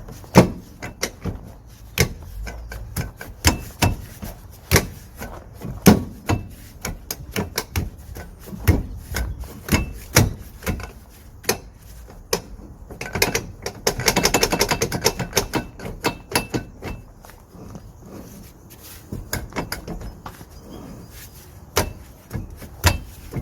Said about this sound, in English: we're going to wiggle the wheel, and that should help to pull out the drum